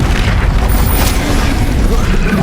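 An Incendio fire spell from Hogwarts Legacy bursting out in a loud, dense roaring blast that fills the whole clip, with a brief bright flare near the middle.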